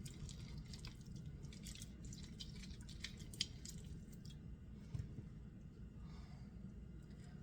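Lemons squeezed by hand give off faint, close wet squishes and dripping juice, soft irregular squelches over a quiet low background hum, with no clear speech.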